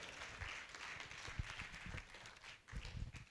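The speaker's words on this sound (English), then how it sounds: "Let's clap for her as she takes the floor." Audience applause at an agricultural adaptation conference as a speaker takes the floor, a soft, distant patter of many hands clapping in uneven bursts.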